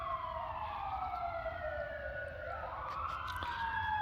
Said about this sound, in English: Fire truck going down Santa Monica Boulevard.